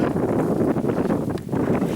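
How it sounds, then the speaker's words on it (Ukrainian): Wind buffets an outdoor microphone in a strong, continuous low rumble, briefly easing for a moment before gusting again. "попробую від вітру відвернутися"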